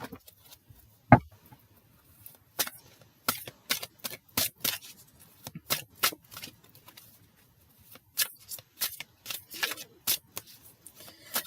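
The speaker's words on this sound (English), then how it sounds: "These cards feel like they're slipping out of my hand as I'm shuffling." Tarot cards are shuffled by hand in quiet bursts of crisp, close riffling flicks, scattered in irregular clusters with short pauses between them, no voices.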